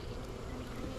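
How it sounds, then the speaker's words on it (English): Honey bees hum in a dense, continuous drone while a nucleus colony is being installed into a hive. The swarm is close and sounds thick and steady, with no clear voices over it. "It can collect all these bees right back."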